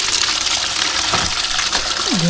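Water gushes loudly and continuously at an overnight riverside campsite, a dense, close rushing wash with a brief pitched tone near the end.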